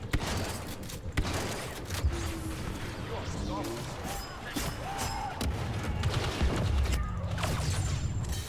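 Heavy gunfire and blaster shots in a Star Wars video game battle, loud dense bursts and impacts repeating throughout, with a voice speaking over the action.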